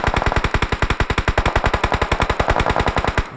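Rapid automatic gunfire in a PUBG-style battle royale game, a steady stream of loud, evenly spaced shots, roughly ten per second, running unbroken and close with no talk.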